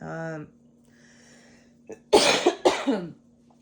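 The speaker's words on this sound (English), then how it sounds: "now I got a cough attack and I need water" A short vocal sound, then a pause, followed by two loud, harsh coughs in quick succession, close up.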